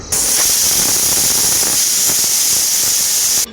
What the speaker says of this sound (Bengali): কুকারের ঢাকনাটা আমি লাগিয়ে দিয়েছি দু সিটিয়েই সেদ্ধ হয়ে যাবে